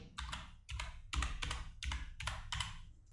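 Someone types on a computer keyboard, up close, in quick bursts of clattering key taps with short pauses between them, alone with no talking.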